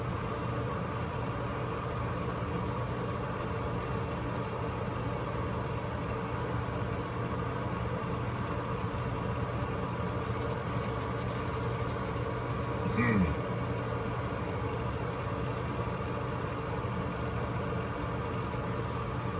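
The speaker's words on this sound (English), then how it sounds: "Sorry for the silence and the wonderful sound of the fan going here" A fan runs in a room, giving a steady, even whir that holds unchanged throughout with no break.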